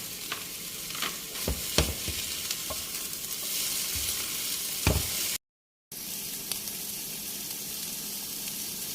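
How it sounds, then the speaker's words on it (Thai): Bamboo shoots with eggs, basil leaves and chili sizzle steadily in a hot pan while a spatula scrapes and stirs with several clicking strokes. "ผัดต่ออีกแป๊บเดียวก็ปิดไฟได้เลยค่ะ"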